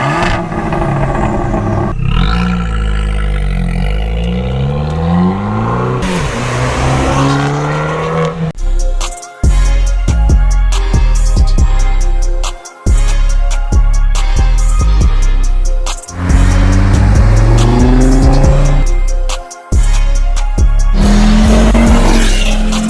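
A Fiat 500 Abarth in sport mode revs hard and loud through several rising sweeps, each cut by a brief gap as the engine drops back between pulls, with no voices.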